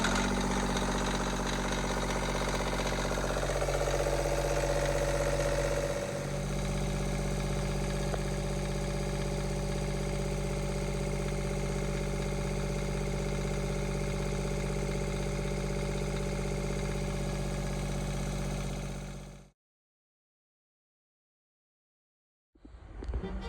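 A Northern Lights marine generator on a yacht runs with a steady, loud mechanical drone in an engine room, holding an even idle for about nineteen seconds before cutting out, followed by silence and a brief restart noise at the end.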